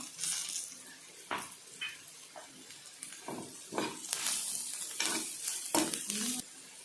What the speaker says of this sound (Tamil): எல்லாம் சேர்த்து பச்சை வாசம் போகிற வரையும் அப்படியே வெங்காயம் நல்லா வதங்கட்டும்